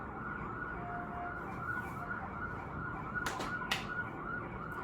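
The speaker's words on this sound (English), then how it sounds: "You can hear the New York life going on in the background." A New York City street hums in the background with steady traffic and a distant wailing emergency siren, faint and continuous behind a quiet indoor room.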